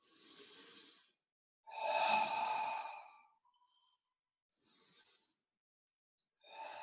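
Slow abdominal breathing during a yoga session, a series of close, airy inhales and exhales separated by silent pauses, one breath noticeably louder than the others.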